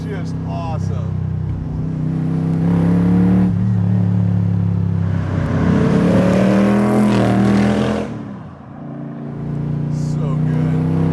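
A Superformance Shelby Daytona Coupe overhauled by a customizer revs and accelerates in several rising surges, with a brief dip near the end, loud and close, while someone talks over the engine throughout.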